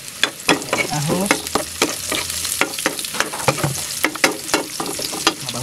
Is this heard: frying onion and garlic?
yes